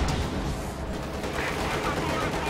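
Steady, dense gunfire in Company of Heroes 2, with rounds bouncing off armor during a head-to-head 1v1 clash, loud and continuous throughout the short stretch.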